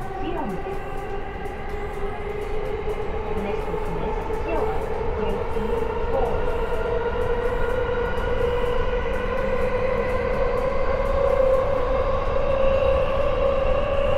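A train rolling steadily along the rails in Tokyo, a continuous rumble with humming motor tones, heard from inside a carriage with faint talk in the background.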